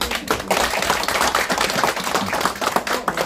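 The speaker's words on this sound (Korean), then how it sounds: "우리 전한길 강사님한테 박수 한번 주시겠습니다" An audience at a debate forum in the National Assembly members' office building in Seoul applauds a guest lecturer, a dense, steady burst of many hands clapping close by, with no talk over it.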